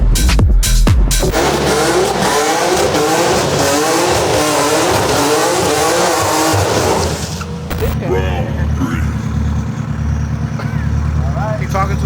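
Drag-race launch of a 1030hp all-wheel-drive Honda Integra DC5 Type R, a loud engine roar with tire squeal that surges for about seven seconds and then drops to a lower, steadier drone, with voices in the background.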